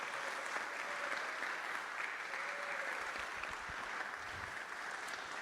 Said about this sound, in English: Can we applaud Marianne for the gift of those 40 years